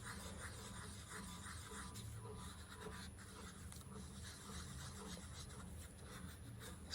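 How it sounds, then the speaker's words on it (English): Resin being stirred in a cup with the sides scraped down, heard as a steady, close, continuous rubbing and scratching that runs without pause and without talk. "Stirring, scraping down the sides, stirring over and over until it's completely clear enough."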